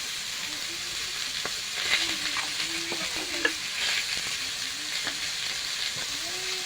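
Potato and pointed gourd curry sizzles steadily in a pan with turmeric, slit green chilli and salt, a continuous close frying hiss broken by occasional stirring scrapes.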